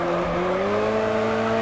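A car's tires squeal steadily while it slides through a drift in the racing game Next Car Game. The engine drones beneath the squeal, which holds at one loud level the whole time, and no one speaks.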